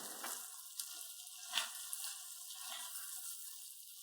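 Pumpkin risotto stirred in a pot, giving a steady soft sizzle and scrape with a few brief clinks of the spoon, close and fairly quiet, no talking.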